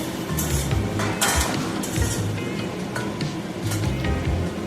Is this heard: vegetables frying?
yes